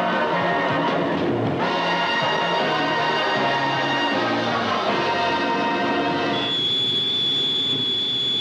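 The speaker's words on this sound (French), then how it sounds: "TGV est prêt pour les premiers essais" The 1972 TGV 001 prototype high-speed train runs during its first tests, a loud, steady rail rumble with whining tonal hums that shift partway through, heard alone with no voices.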